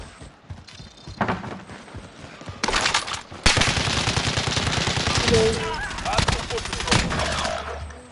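Submachine gun fire in the video game Warzone, with rapid automatic bursts that start sparse and build into a long, loud sustained stream of shots near the listener, plus a few intermittent game voice callouts.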